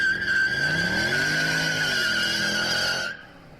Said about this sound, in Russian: А что происходит, когда ремень скользит на шкиве? Правильно, будет издавать похожий звук.